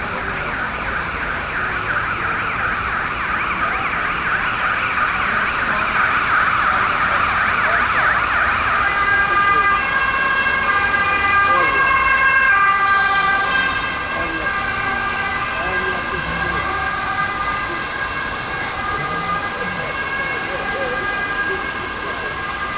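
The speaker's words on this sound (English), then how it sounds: "Police or ambulance coming" An emergency siren, from a police car or ambulance, wails through a central Stockholm street, its rising and falling tone growing louder and then holding steady over constant traffic noise, with faint voices around.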